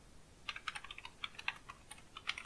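Brisk keystrokes on a computer keyboard, entering a Linux dig command, come as a quick irregular run of light clicks up close, alone and fairly quiet.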